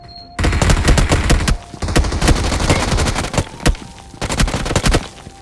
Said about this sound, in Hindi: सामने साइड से फायरिंग हो रही थी